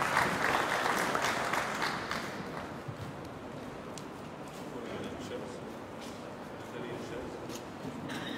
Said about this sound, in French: et vous accueillir par vos applaudissements